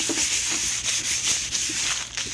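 Wax paper rubbed back and forth along the rails of a table saw sled, a steady close-up scraping hiss with rhythmic strokes repeating about every half second.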